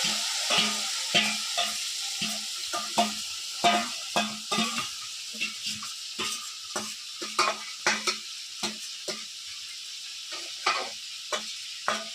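Meat for biryani sizzles in a metal pot while a utensil stirs and scrapes in a regular rhythm, clattering against the metal every second or so.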